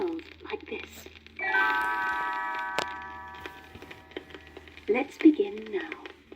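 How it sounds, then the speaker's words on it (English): Small tinkling bells ring as a page-turn signal on a 1971 Disney read-along record of The Voyage of Sinbad the Sailor: a bright sustained chime with shimmering overtones, preceded and followed by brief soft clicks and sounds. "You will know it is time to turn the page when Tinker Bell rings her little bells like this."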